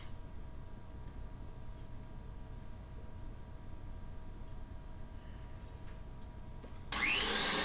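An electric mixer whips a Grand Marnier souffle mixture of whites and sugar, a steady faint motor whir running throughout, jumping to a louder, brighter pitch near the end as the speed rises.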